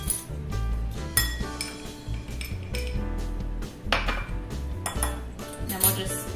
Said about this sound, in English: then we'll just mix those together.